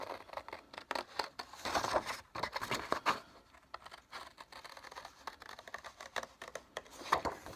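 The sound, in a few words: scissors cutting a paper semicircle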